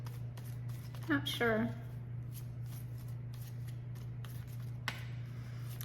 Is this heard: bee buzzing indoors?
no